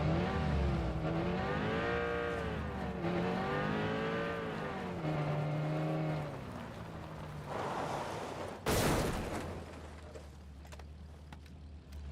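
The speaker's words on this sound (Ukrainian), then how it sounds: "Їдь же ж машина." A car engine in the battle-royale game PUBG drones steadily with shifting revs, then a sharp burst near the end before the motor carries on alone.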